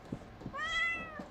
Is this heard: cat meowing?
yes